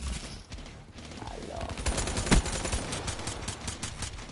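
Razorback gun in a video game firing in a rapid stream of sharp automatic shots, near and loud, with a heavier blast partway through and a faint voice in the background.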